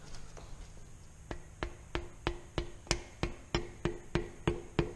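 Engine caps for a Honda Civic engine build being tapped down onto their dowels: about a dozen sharp, evenly spaced knocks that speed up slightly and grow a little louder, close up, with no talking.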